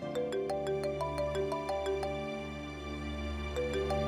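A phone rings in a quiet domestic room during a family drama scene, a steady electronic ringtone melody repeating in short tonal bursts over a low background hum, with no one talking over it.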